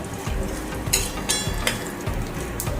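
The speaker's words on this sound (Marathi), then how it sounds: "आता शेंगदाणे टाकून घ्या आणि शेंगदाणे छान असे परतवून घ्या" Peanuts frying in hot oil for homemade poha chivda give a steady, close sizzle with a few sharper crackles and stirring clatters scattered through, no talking.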